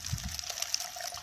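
Water is poured into thermos coffee with milk outdoors, making a short, soft trickle just over a second long against faint background hiss.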